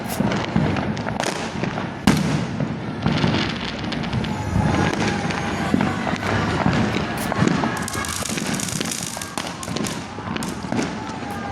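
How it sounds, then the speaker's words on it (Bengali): New Year fireworks and firecrackers burst all around in a dense, continuous barrage, sharp cracks and thumps overlapping one another at close to middle distance. "কালী পুজোর চেয়ে বেশি বাজি ফাটছে"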